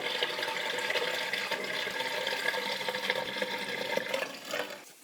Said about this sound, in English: Flushing the basins a few times once complete is also helpful in washing away any debris